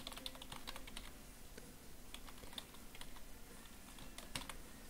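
Typing on a computer keyboard while editing weapon files for Black Ops 2, with quick, light key clicks in an uneven, steady patter, faint and close, with no voice over it.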